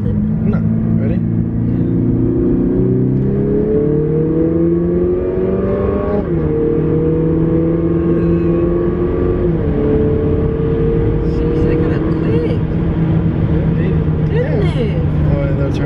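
A Lexus IS200t F Sport fitted with an HPS performance intake accelerating hard through the gears from inside the cabin, a loud rising engine drone with audible upshifts, while occupants talk over it.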